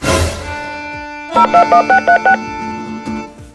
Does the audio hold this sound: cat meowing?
no